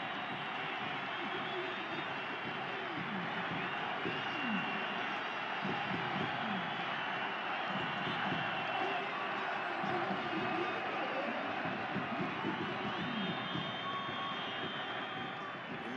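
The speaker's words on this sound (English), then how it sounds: "And listen to the applause." A stadium crowd roars and applauds at a 2021 Concacaf League football match between Comunicaciones FC and FC Motagua. The broad, steady roar fills the whole stretch beneath continuous commentary.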